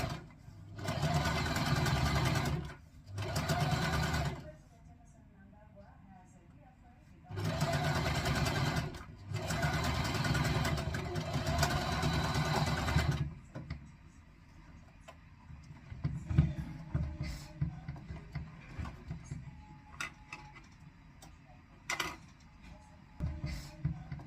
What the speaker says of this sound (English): here I'll just have to stitch up to the very end